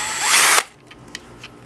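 An 18-volt Ryobi cordless drill runs at its second, higher speed in a loud high whine for about half a second, then stops abruptly, leaving faint clicks and handling noise.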